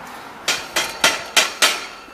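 A Mario-themed hammer prop strikes five times in quick, fairly even succession, each hit a crisp, close, bright knock with a short ringing tail, no voices.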